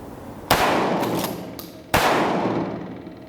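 Two loud shotgun blasts about a second and a half apart, one firing single-aught buckshot and the next double-aught, each a sharp close boom with a long ringing decay; an outdoor home-defense shooting setting.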